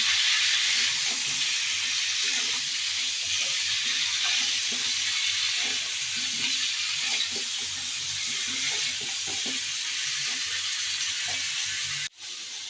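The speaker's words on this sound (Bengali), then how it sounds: "মাছগুলো ভেজে নিচ্ছি" Fish frying in a pan with a steady, loud, close sizzle throughout and faint stirring clinks underneath, then a brief dip near the end.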